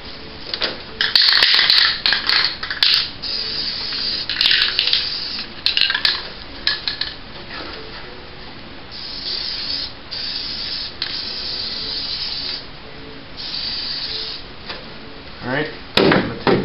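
Green and brown aerosol spray paint is hissed onto an aluminium jon boat in repeated short bursts, some rapid and close together, others longer, with brief pauses and light handling clatter between them.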